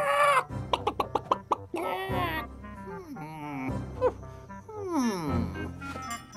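An animated rooster gives a loud, close series of clipped clucks followed by drawn-out, wailing crowing calls, alone without talk.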